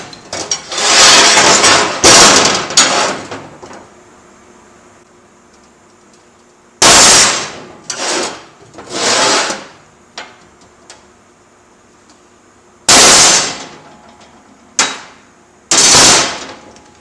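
Hard hammer blows strike metal to mark a BMW E36 seat bracket in a workshop, with loud, sharp bursts that come in scattered clusters and gaps of quiet between them.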